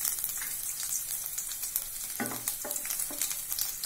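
Hot oil sizzling steadily as finely chopped garlic, about ten cloves, fries, with a few soft scraping stirs partway through.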